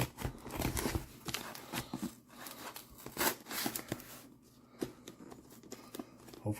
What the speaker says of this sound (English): You know what? I'm just going to cut it.